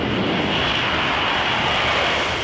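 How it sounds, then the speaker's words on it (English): A Marine Corps F-35B jet roars down the runway on takeoff, a loud, steady broadband engine rush that fills the whole stretch without letup. "as I'm accelerating down the runway, and literally just click a button, and then the plane will take off by itself"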